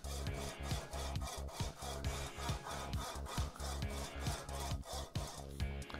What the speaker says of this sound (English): just move your rail backwards and forwards quite a bit